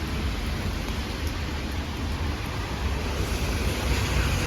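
Rain falls steadily while someone walks to a train station, a continuous, even hiss with no breaks, fairly loud and close.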